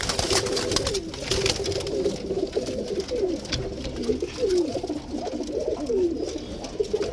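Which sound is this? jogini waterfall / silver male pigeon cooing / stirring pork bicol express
silver male pigeon cooing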